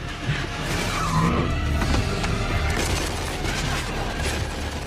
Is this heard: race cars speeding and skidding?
yes